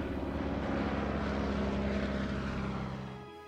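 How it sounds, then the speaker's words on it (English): A de Havilland 60 Moth biplane engine drones steadily as a loud, even propeller hum, then fades away over the last half second. "a de Havilland 60 Moth"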